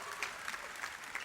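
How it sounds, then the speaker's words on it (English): Audience applause at a live Polynesian cultural dance performance in Samoa, a steady patter of clapping from a moderately distant crowd that swells briefly a few times over its short length. "Everybody give him a round of applause."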